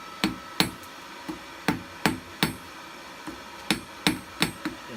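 A blacksmith's hammer rings on hot metal while a hair barrette is forged, sharp strikes landing in loose clusters of two or three with brief pauses between, close and clear.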